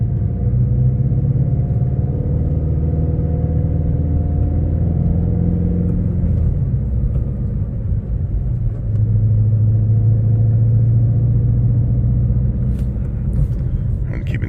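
A Ford Mustang GT350 is driven, its engine giving a steady low rumble inside the cabin that swells and eases with the throttle throughout.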